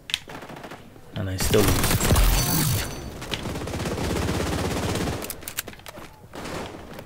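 Rapid automatic gunfire from a fast-firing weapon in the shooter game XDefiant, loud sustained bursts lasting a few seconds with brief gaps, with someone talking over parts of it.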